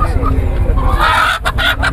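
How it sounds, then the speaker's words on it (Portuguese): Chickens cluck and squawk at a free-range poultry fair in Campina Grande, Brazil, a loud close flock calling continuously with a busy market crowd murmuring behind. "É as galinhas dele aí."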